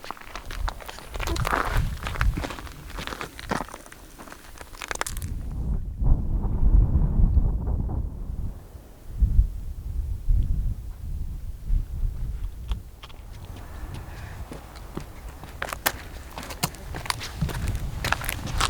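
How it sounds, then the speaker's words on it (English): Gusty wind buffets the microphone outdoors at a campsite, a steady rumbling roar that swells and eases over the whole stretch, with scattered footsteps and small handling knocks mixed in. "I don't like being in that wind."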